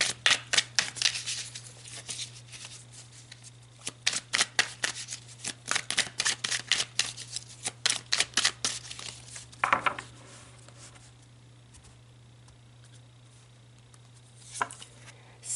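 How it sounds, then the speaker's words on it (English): Tarot cards are shuffled in quick, dense bursts of sharp riffling clicks for about ten seconds, then slow to a few scattered card slaps, close up over a faint steady hum. "let's pull some tarot."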